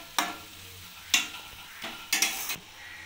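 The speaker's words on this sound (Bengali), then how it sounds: "এটা চিনিটা দিয়ে ভালো করে নাড়িয়ে আমি নামিয়ে ফেলবো" Hilsa fish head cooking with ash gourd and sugar is stirred in a pan, a soft sizzle under four distinct scraping strokes, the last two close together, with no talking.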